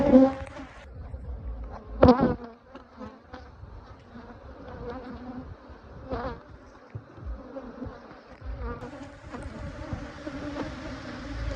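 Honey bees buzz steadily around beehives in a beekeeping yard during late-season splits, a continuous swarming drone with close passes of individual bees and a few brief knocks, no talking.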